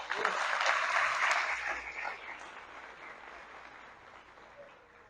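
Church congregation applauding in a broad wash of clapping that swells loud in the first two seconds, then thins and fades toward the end.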